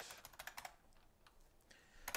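Typing on a computer keyboard: a quick burst of close, crisp key clicks, then a few sparse taps and a final cluster, quiet with no talk.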